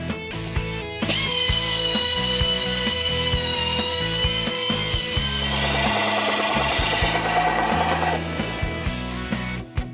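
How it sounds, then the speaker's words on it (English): A power tool grinds steadily as it chamfers the cylinder bores of a Mopar 440 engine block, a loud continuous whine with a rougher, harsher passage midway. "we're going to go ahead and put a chamfer on the cylinders to help the rings go in"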